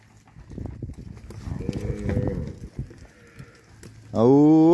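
Cattle on a farm being sorted, with a man calling to the herd, then a loud, close, drawn-out moo rising at the end.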